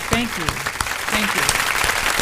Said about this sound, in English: I want to give her an official round of applause.